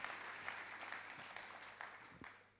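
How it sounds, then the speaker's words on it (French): Applause from a seated audience in a hall at the Corbeilles 2014 awards evening, a fairly faint, steady wash of clapping that tapers off near the end. "Je vous demande d'applaudir Jean-Antoine Bouchez"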